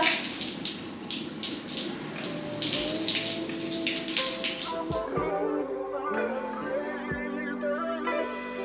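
Warm running water pours from a hose onto a horse being bathed, a continuous splashing spray that drops to a softer trickle partway through.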